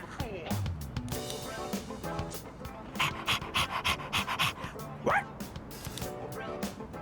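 A dog pants and yips in Persona 3 Reload, quick rhythmic breaths with short bursts and a small whimpering rise, heard close under background voices.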